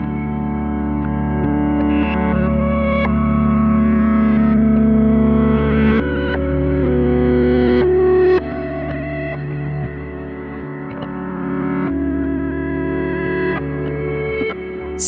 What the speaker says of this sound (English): Flutter sets the intensity of fast, twitchy random modulation, affects both amplitude and pitch, giving the impression of quivering,